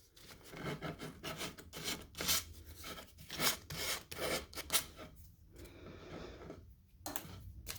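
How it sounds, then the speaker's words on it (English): Hand file rasping along iron-on edge banding on a plywood edge, repeated back-and-forth strokes in an uneven rhythm, close and fairly loud with short pauses between passes. "I'm going to work into that 90 with my file"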